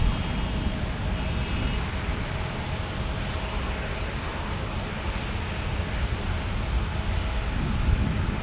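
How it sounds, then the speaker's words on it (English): An Embraer Legacy 600 private jet at San Diego's airport at night produces a continuous, fairly close engine roar with a hissing wash, steady throughout with a couple of faint ticks and no talk. "look at that, we got a Aero Embraer Legacy 600."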